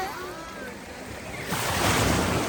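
Sea waves wash onto a beach, a rough surge swelling louder halfway through over heavy wind buffeting the microphone.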